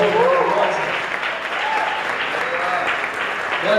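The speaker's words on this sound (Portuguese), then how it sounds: "Você pode aplaudir mais uma vez o Senhor por essa obra maravilhosa." A church congregation applauding together, a steady dense wash of clapping that fills the whole moment, with a voice carrying over the top at points.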